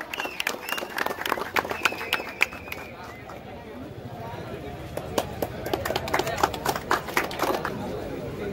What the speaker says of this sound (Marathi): प्रशांतसाठी पडदे का टाळ्या जोरात